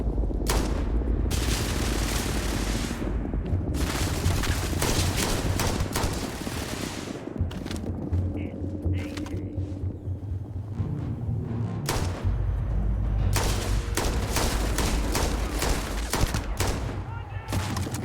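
Rapid bursts of gunfire from an unfamiliar weapon in the survival horror game Holstin, loud and repeated in clusters with short gaps, over a steady game soundscape with some talking.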